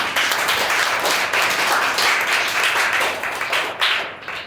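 Dense, steady applause from a church congregation during a Hindi sermon on prayer and fasting, loud hand claps filling the room continuously and fading slightly at the end.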